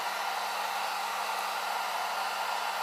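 A heat gun set on low blows a steady, even hiss of hot air while warming the adhesive backing of a metal badge on a Mazdaspeed Protege. The sound is close and continuous, without talking.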